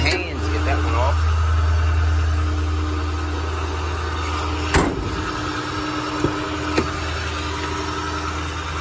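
A 2008 Ford F-450 bucket truck engine idles with the PTO engaged, giving a steady low rumble close by, with a few sharp clicks and knocks partway through.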